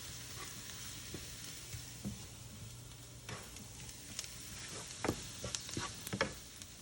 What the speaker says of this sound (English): I'm going to saute it for a little bit before I add the mushrooms.